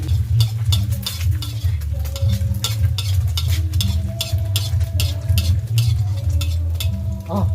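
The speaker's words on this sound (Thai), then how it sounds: "จะทอดกันนิ่มๆเลยครับไม่ให้มันกระทบกระเทือน" A giant egg gently frying in a pan, a steady soft sizzle and crackle with occasional light scraping of a utensil, close and continuous, with no talking.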